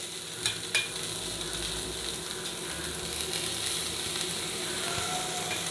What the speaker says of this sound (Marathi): आणि एकदा छान मिक्स करून घ्यायची आहे